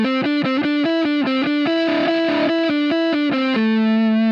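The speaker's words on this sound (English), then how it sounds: "if you just randomly improvise the notes in the shape, you're likely to sound like this" Distorted amplified electric guitar plays a loose, meandering run of notes that hop up and down within one scale shape, loud and continuous, ending on a held low note.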